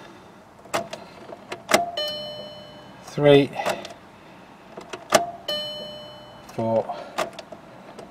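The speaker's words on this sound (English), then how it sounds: "I always think 5 turns ignition on and then off should be enough to prime it" A VW Golf TDI's fuel pump primes as the ignition is switched on and off, with repeated dashboard chimes and clicks followed by short electric buzzing bursts, while a nearby voice counts aloud.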